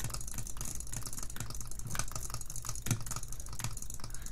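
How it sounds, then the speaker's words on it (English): Rapid clicking on a Glorious Model O computer mouse, butterfly-clicking style, giving a dense, steady patter of sharp clicks with a few louder taps, close and continuous with no talk. "look at butterfly clicking on this mouse"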